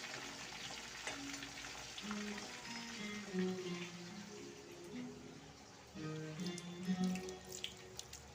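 Tap water runs steadily into a worn kitchen wash basin while hands are washed during cooking, a continuous close splashing hiss with a faint tonal hum beneath, no talk.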